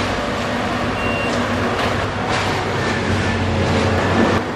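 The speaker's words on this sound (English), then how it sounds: "Railway ballast tampers employ a mix of vibratory and squeezing forces to efficiently consolidate the ballast, thereby ensuring the track stability and durability." A railway ballast tamper works on train tracks, a loud steady broadband rumble of vibrating and squeezing machinery with a faint high warning beep, heard close and continuous without talk.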